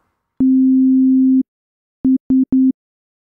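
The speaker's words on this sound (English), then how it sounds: "let's look at clipping using a sine waveform" A pure sine wave test tone in a clean, low-pitched steady hum: one long tone of about a second, a pause, then three short beeps in quick succession.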